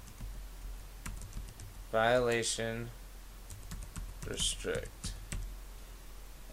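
Keys on a computer keyboard click in scattered taps and short bursts while a person speaks briefly between them, moderately close and fairly quiet.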